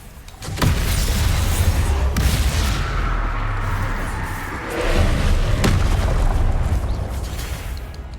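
A Confringo blasting curse from Hogwarts Legacy goes off in a loud burst, followed by a second heavy blast a few seconds later, deep booming thuds with rumbling tails and no talking.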